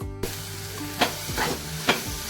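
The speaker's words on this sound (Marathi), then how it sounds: "आता आपल्याला यामध्ये ओलं खोबरं टाकायचं आहे चांगलं परतवून घ्यायचं" Freshly grated coconut sautéing in melted jaggery, heard as a steady sizzle with three distinct spoon scrapes against the pan, loud and close, and no talking.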